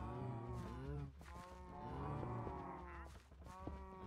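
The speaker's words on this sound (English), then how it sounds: "I can't think when there's all those cow sounds." Repeated cow moos from Minecraft livestock, several overlapping low bellows at steady loudness throughout, no voices over them.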